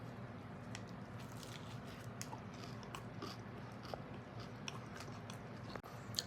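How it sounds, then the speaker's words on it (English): Bites and chewing on a Jimmy John's spicy firecracker wrap with a chip-like crunch, quiet and close, a steady moist munching texture through the whole stretch with a few sharper crunchy snaps. "Let's take a bite."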